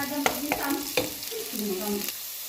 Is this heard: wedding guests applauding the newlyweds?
no